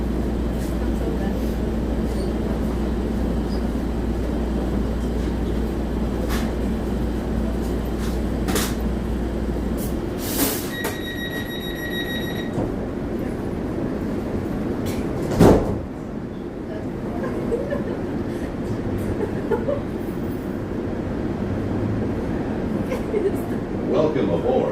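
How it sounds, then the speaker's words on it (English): Metro E Line train ride heard from aboard, a steady rumbling hum with clunks and a brief electronic tone, one sharp bump midway, and people talking throughout. "Welcome aboard the Metro E Line."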